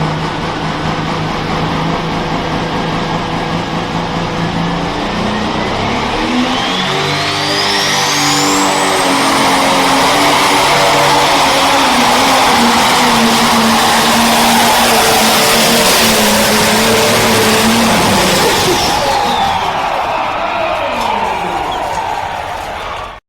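A pulling tractor roars through a full run on a competition track, its engine climbing steeply in pitch and holding a loud, sustained scream before easing off near the end, with a voice talking faintly underneath.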